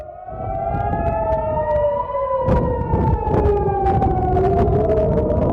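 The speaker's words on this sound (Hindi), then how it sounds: "तेल अवीव में लगातार सायरन की आवाज गूंज रही है।" Air raid sirens wail continuously over Tel Aviv during an Iranian missile attack, several overlapping tones rising and falling steadily and loud throughout, with faint scattered background noise.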